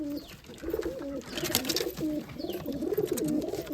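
Madrasi and Giribaz pigeons coo in a loft, several overlapping throaty calls rising and falling nearby, with light scuffling and wing flutters in between.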